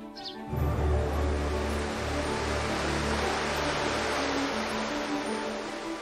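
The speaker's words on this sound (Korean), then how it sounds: "어느새 녹음이 우거지고 바위 틈 사이로 쏟아지는 물소리가 우렁찹니다." Water pours and rushes between rocks in a mountain stream in a highland village, a loud, steady broadband roar that starts abruptly after a brief quiet moment and continues unbroken.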